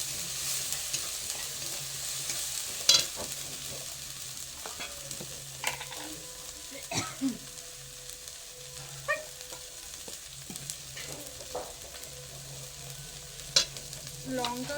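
Turmeric powder stirred into a frying pan, with a low sizzle running steadily beneath scattered scrapes and knocks of the spoon against the pan, close and fairly quiet throughout.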